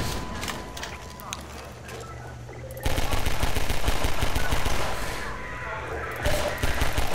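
Gunfire in the video game Half-Life 2 comes in dense, loud bursts like rapid automatic fire, growing heavier partway through and continuing steadily to the end.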